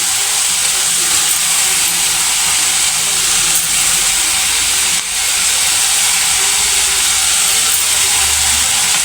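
Tomatoes dropped into a hot pan for capsicum kadle hittina junka give a steady, loud hiss and sizzle that runs unbroken throughout, close up.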